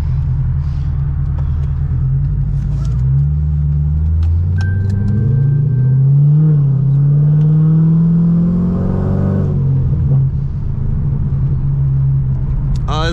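A rat rod Corvette drives across the Golden Gate Bridge, its loud close engine droning steadily, then revving up and rising in pitch before settling back to a deep, even rumble.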